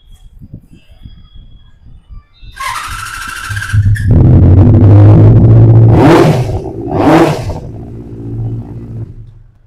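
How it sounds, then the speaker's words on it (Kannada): A Benelli 600 motorcycle engine starts up and revs loudly nearby, giving a couple of sharp throttle blips over a rumbling idle. "ಓಕೆ ಜಸ್ಟ್ ಒಂದು ಸ್ಟಾರ್ಟ್ ಮಾಡಿ ಸರ್ ಗಾಡಿ. ಇದು ಸೌಂಡ್ ಕೇಳ್ಸೋಣ,"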